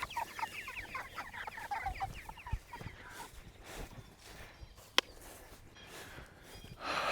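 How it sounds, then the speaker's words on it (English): A flock of chickens, a dozen egg-laying hens and fifty young broiler meat birds on fresh grass pasture, clucks and murmurs in a busy overlapping chorus, with one sharp knock partway through. "We have moved all of our chickens, our 12 egg layers, and now our 50 baby broiler meat chickens."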